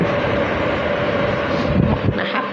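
Electric fan motor running loudly close by, a constant whirring drone with a steady tonal hum and rushing air, level and unbroken throughout.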